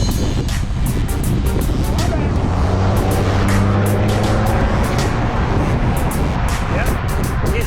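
Car engine and tyre noise from a vehicle coming up behind a group of road cyclists during speed intervals, a steady broadband roar with a low hum under constant wind rush, fairly loud and continuous.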